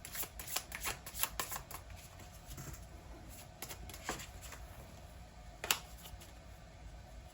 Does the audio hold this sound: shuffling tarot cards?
yes